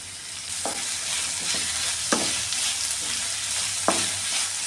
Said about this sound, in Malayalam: പച്ചമുളകും കൂടി ഇട്ട് കൊടുക്കാമേ എല്ലാം കൂടെ നന്നായി ഒന്ന് വഴറ്റിയെടുക്കാമേ